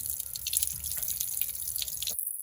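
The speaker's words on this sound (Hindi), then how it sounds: "अंडे को ठंडे पानी से धो रहा है।" Cold tap water trickles and drips steadily over an egg being washed for about two seconds, then cuts off abruptly into silence.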